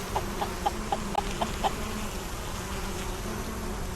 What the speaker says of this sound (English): the sounds of the bees is so relaxing.